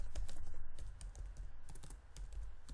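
Rapid keystrokes on a computer keyboard while C code is typed, a quick irregular clatter of light clicks with short pauses, close and fairly quiet.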